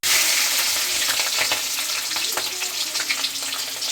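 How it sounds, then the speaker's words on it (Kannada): Green chilies frying in a pan, a loud close sizzle with crackling spits and brief stirring scrapes, continuous over a few seconds with no talking. "ಸ್ವಲ್ಪ ಮೆಣಸಿಕಾಯಿ ಫ್ರೈ ಮಾಡ್ತಾ ಇದ್ದೀನಿ"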